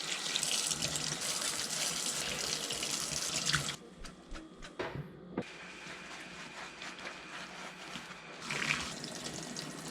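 A Yamaha TW200 air filter rinsed under running tap water: a loud, steady splashing gush into a sink that breaks off midway into quieter drips and trickles before the flow picks up again near the end.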